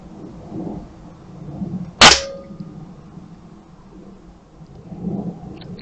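A single sharp airgun shot fired with Barracuda light pellets, a loud crack with a short ringing tail at an outdoor range, standing alone over quiet background.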